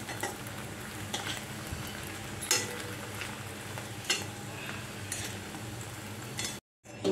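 Chhana bora, cottage cheese fritters, frying in white oil in a pan, a constant soft sizzle with a few scrapes and clinks of a spatula, then a brief drop to silence near the end before the frying noise resumes.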